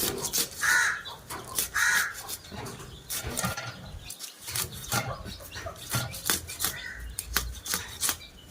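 Crows caw several times in broken bursts at an outdoor spot where carp is being cut, alongside choppy knocking, rustling and brief human sounds.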